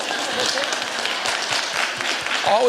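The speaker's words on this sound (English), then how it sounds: "You can go ahead and clap." Audience applause at a keynote talk during a racial justice summit, steady broadband clapping throughout, with a voice briefly heard near the end.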